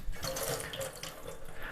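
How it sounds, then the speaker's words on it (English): Water runs from a tap to rinse out a glass jar in a kitchen sink, a steady splashing rush that stays loud throughout. "I always give it a rinse with the good water right before."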